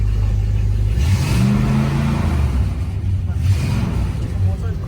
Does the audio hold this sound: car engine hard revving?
yes